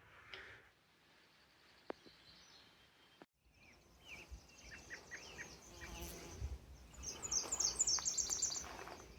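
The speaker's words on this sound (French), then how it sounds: "Les mouches viennent de gagner, les insectes viennent de gagner." Flies and other insects buzz close around a hiker on a forest trail in Forillon, Quebec, a droning hum that grows denser toward the end. Faint bird chirps and rustling are also heard.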